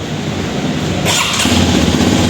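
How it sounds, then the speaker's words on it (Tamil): Hero Xpulse 210 motorcycle engine catching and starting midway, settling into a loud, steady mid-range idle hum close by, with no talking. "இப்போ வண்டி ஸ்டார்ட் பண்ணி ஆன் பண்ணுங்க ப்ரோ."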